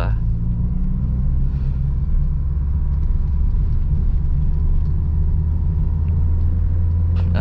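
A manual car engine held in second gear at low speed, under 20 km per hour, a steady low rumble and drone with faint mechanical whir throughout, while someone talks over it.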